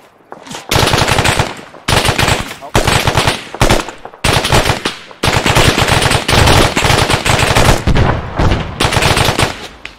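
Loud automatic gunfire in the military shooter Arma 3, rapid machine-gun bursts in several long strings separated by short pauses, close and dominant.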